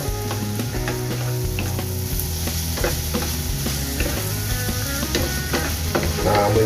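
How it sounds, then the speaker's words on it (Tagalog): Bopis, a Bicol-style dish, sizzles and fries in a pan while a utensil stirs it, with repeated scraping and clinking strokes over a steady crackling hiss. "Haluin natin"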